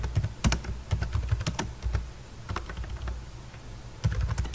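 Rapid typing of JavaScript code on a computer keyboard, with irregular bursts of close, crisp key taps and short pauses, steady throughout with no talk.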